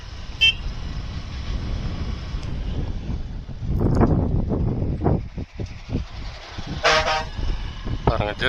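A motorbike horn toots a couple of times at a bend on a forest road through Karaiyar Forest, amid wind buffeting the microphone and engine noise, with people talking intermittently.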